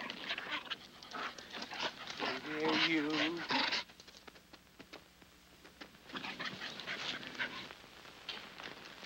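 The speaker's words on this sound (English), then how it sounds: "Here, doggy, doggy. Nice doggy. Come here, doggy. Nice poochie." A dog pants steadily and whimpers in an old Andy Clyde Columbia comedy short, its breathy panting rising to a louder whining stretch before settling into quieter, ragged breaths.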